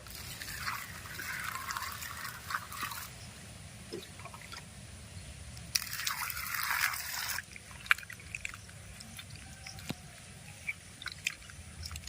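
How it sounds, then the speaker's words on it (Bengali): Pumpkin pieces are rinsed in water by hand, giving soft trickling and squishing splashes with two louder bursts of running water, close and steady, with no talking. "কুমড়ো বানিয়ে নিয়েছি এবার ধুয়ে নেব"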